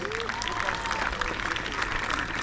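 Crowd applause for competitors at an international jousting tournament in Arundel, a steady dense clapping that holds for the whole stretch with a faint voice through it.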